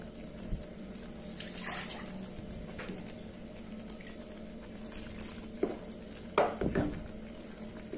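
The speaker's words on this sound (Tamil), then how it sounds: "இப்போ நான் தண்ணி கொஞ்சம் ஊற்றுறேன்." Water pours and splashes into a cooking pot of vegetable paya in a few short bursts, with faint clinks of metal against a low background hum.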